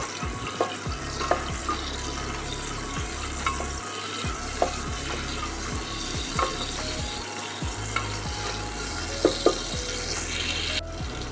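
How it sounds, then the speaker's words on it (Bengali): Chopped onion fries in a pan with a dense, continuous sizzle, broken by occasional stirring scrapes and clicks as the pieces are moved, steady and fairly close, with no voices. "সেই পেঁয়াজ কুচিটা পুরোটা দিয়ে এটাকে একটু ফ্রাই করে নিতে হবে পেঁয়াজটাকে"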